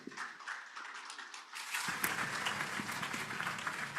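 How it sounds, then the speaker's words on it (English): Applause from a conference audience at an electrical engineers' convention, thin and scattered at first, then swelling into fuller clapping with a few people murmuring underneath, heard from a distance. "Round of applause, please."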